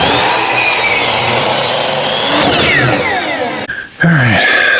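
A power miter saw slices through 8-foot, 1/4-inch wooden boards for a raised garden bed, a loud close whine with rasping blade-on-wood noise. It cuts off briefly, then the motor spins back up.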